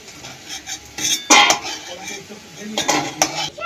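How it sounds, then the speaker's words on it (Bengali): A metal spatula scrapes and clinks against a kadai while fried potatoes are lifted out of hot oil, several loud clattering bursts with quiet pauses between them, no speech. "আলুগুলো তুলে নেবো এবারে"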